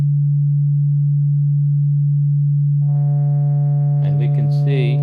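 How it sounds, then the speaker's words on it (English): A sine wave played on a Haken Continuum through its EaganMatrix kinetic model, starting as a loud, pure steady tone, then gaining buzzy overtones and a rough, warbling distortion as finger height is lowered. "Let's give that a shot with our sine wave."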